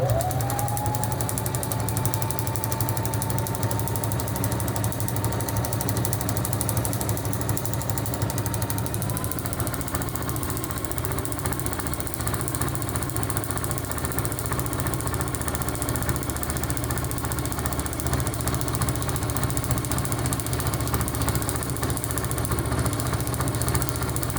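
A sewing machine stitches a loopy free-motion pattern, a loud, steady mechanical rattle and buzz that runs without a break from start to finish.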